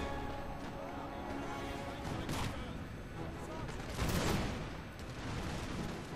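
Massed musket volleys in Napoleon: Total War, an online 4v4 battle with British regiments and Highlanders, crackle as continuous dense gunfire with a louder burst near the end, under steady talk.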